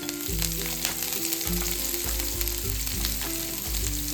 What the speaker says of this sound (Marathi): कांदा छान असा परतून घेतलाय आपण